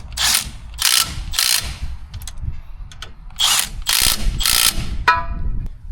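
A ratchet tightens the front brake caliper bolts on a Ram 2500/3500 HD pickup truck, clicking close and loud in quick repeated bursts with short pauses between strokes.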